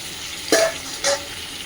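A quiet sizzle of spiny gourd (kakrol) frying in a pan, broken by two short scraping stirs about half a second apart.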